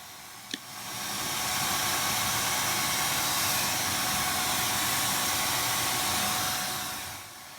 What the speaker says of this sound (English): using a spacer and using suction to pull my hair out just so I can make sure that about 1/2 of an inch of my hair is going to be cut off